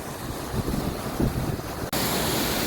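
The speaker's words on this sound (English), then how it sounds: "Okay, so I'm crossing the waterfall now." A waterfall on a hiking trail gives a broad, steady roar of rushing water with gusts of wind on the microphone, then cuts abruptly to a brighter, constant wash of water noise.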